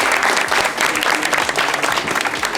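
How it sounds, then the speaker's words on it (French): A television studio audience gives a lively round of applause, dense, energetic clapping that stays loud and steady from start to finish. "on a quelqu'un là-bas qu'on va applaudir"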